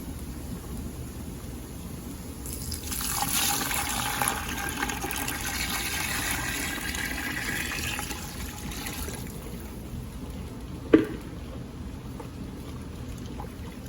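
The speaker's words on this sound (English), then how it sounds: "I'm going to go ahead and pour in my stock." Stock poured into a pot with onions and bacon, a steady splashing pour for several seconds, followed by a single sharp clink.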